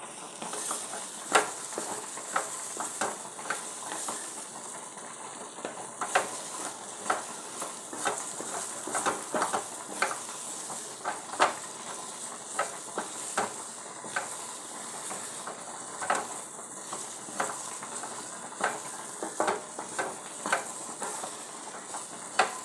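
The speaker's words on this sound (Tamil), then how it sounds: "இந்த மாதிரி ஒரு சின்ன கடாயில் வதக்கிக்கலாம்" Chopped okra sautéing in a small kadai: a steady frying sizzle punctuated by frequent sharp spatula scrapes and taps in an irregular rhythm, close and moderately quiet, no talking.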